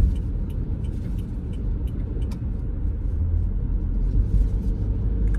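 A car rolls along Bustleton Avenue in Northeast Philadelphia with a steady low road rumble and engine drone heard from inside, no voices.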